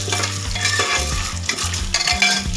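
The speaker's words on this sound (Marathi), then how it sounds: "त्यामुळे आपल्याला इथं थोडा वेळ फ्राय करून घ्यायचे तेलामध्ये।" Corn kernels with turmeric frying in hot oil in a pan for instant popcorn, a close, busy sizzle with repeated scraping stirs of a spoon, loud and continuous, no voices.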